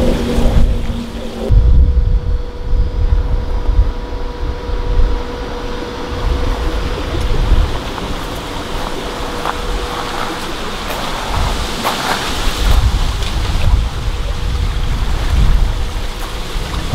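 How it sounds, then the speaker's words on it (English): Gusty wind buffeting the microphone outdoors beside a backyard pond and aviary, a continuous rumbling rush rising and falling, with a faint steady tone in the background. "it's a windy day out here"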